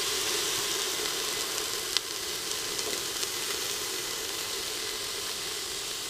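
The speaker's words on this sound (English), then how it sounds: "Dump in the green peppers." Green peppers hit the hot oil in an Instant Pot and set off a continuous, bright, hissing sizzle that holds evenly throughout, with a faint clack partway through.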